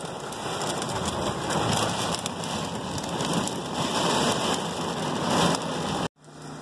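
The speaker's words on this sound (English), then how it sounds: "That would be hail." Hail and heavy rain pound down during a storm at a homestead, a dense, loud, continuous patter of drops and hailstones, close by and steady until it cuts off abruptly near the end.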